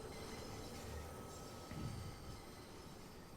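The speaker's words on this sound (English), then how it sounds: "I hear more squealing flanges." Train wheel flanges squeal faintly on a London Underground Bakerloo line train in Train Sim World 2, a thin high whine riding over a low rumble of rolling carriages.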